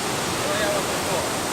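Kroya Waterfall on a river in Bali, a loud continuous roar of falling water, steady and close, with a voice faintly under it.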